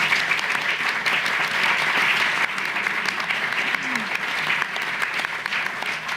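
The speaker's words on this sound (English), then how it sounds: "join me in a round of applause for my fellow panel members" An audience applauds a panel in a hall, producing loud, dense, continuous clapping that stays fairly even throughout with slight dips near the end.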